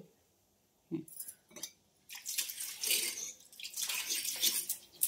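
Water is poured and splashed over a stone grinding slab to wash it, with a couple of brief knocks first and then a steady, close rush of running water.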